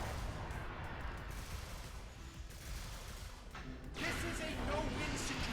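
Video game gunfire rattles in dense, rapid bursts, fairly faint, growing louder and sharper toward the end, with a voice talking over it at times.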